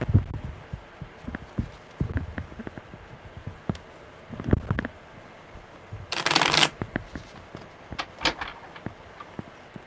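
Tarot cards are shuffled up close, with soft irregular riffling and tapping that comes in short clusters and one louder, longer burst midway.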